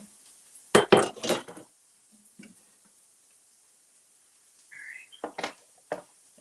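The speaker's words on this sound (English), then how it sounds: "So let's get our griddle." A griddle is handled in a home kitchen: a few clanking metal knocks and scrapes in two short bursts, near and fairly loud, separated by near silence.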